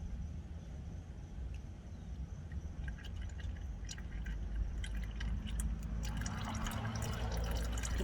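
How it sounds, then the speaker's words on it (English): Transmission fluid drips from a 2013 Toyota Sienna, faint scattered drops that quicken into a soft continuous trickle near the end, with no talking. "let the oil drip all the way"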